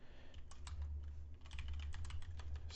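Someone types a folder name on a computer keyboard in quick, light clicks at close range, irregular taps over a low steady hum.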